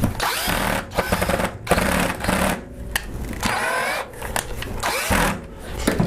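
A power drill drives 3/4 inch flathead screws into the wooden stand of a homemade multi-color T-shirt printer, whirring loud and close in several bursts with brief pauses between them.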